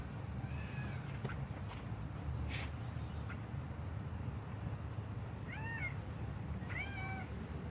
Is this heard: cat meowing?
yes